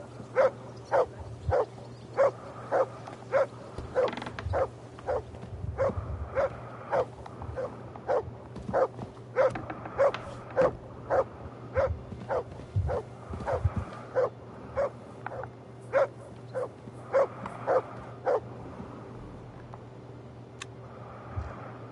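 A dog named Mutt in Kingdom Come Deliverance 2 barks repeatedly in a steady rhythm of sharp yips, close and clear over a low game ambience hum.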